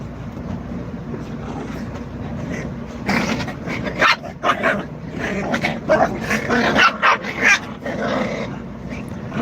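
Puppies at home growl and yip in a scrappy burst of play, the rough growls and short barks coming in uneven clusters, fairly close, with no speech over them.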